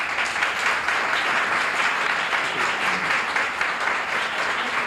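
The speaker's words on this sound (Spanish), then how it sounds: "para que pida un aplauso." An audience in a lecture hall at an art history talk claps steadily, a dense, even wash of applause from many hands that holds at a constant level for the whole stretch.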